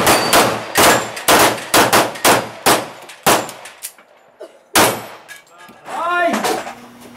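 A rapid string of close, loud gunshots rings out against falling steel plate targets, each crack followed by a metallic clang, then a pause and a few more shots, with a voice briefly heard.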